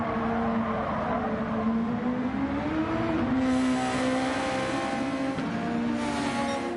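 Super Formula race cars from Gran Turismo 7 racing at Trial Mountain reversed, one engine note loud and steady throughout, its pitch climbing and then settling as it revs up through the gears.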